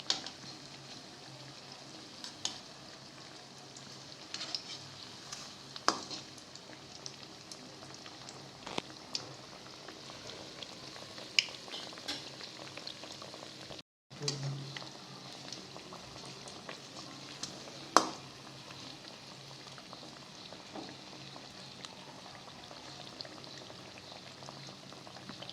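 Veg cutlet frying in a pan and turned over to its other side, a soft bubbling sizzle with scattered pops and one brief break where it is flipped, then the frying resumes, faint and steady.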